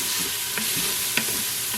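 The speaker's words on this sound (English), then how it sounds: "And stir this all up." Sweet potato and black bean chili stirred in an Instant Pot, a soft steady scraping and sizzling texture with a couple of brief clinks near the middle and end.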